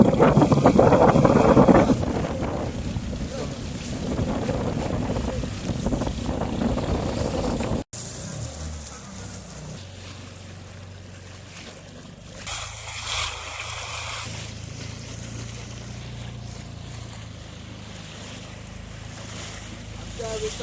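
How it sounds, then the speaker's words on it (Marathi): A boat travels on the sea near an island, with loud wind buffeting and engine and water rumble, heaviest at the start, then a steadier low drone with wave wash. "आणि ते बघा आपली बोट बघा."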